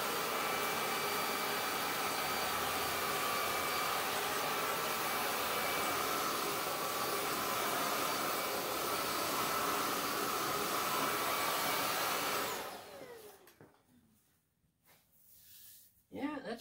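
A ZOKER A10 Pro MEGA vacuum cleaner runs on a bare floor with a loud, steady roaring whine for about twelve seconds, then shuts off and winds down into near silence with a few faint handling noises.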